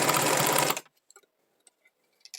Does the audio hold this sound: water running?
no